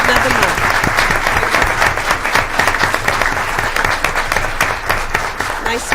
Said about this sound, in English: If we can give these students a round of applause.